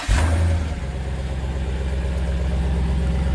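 A 2026 Dodge Durango RT with a 6.4-liter 392 Hemi V8 idles with a deep, steady exhaust burble after a brief blip at the start, loud and close with no talking.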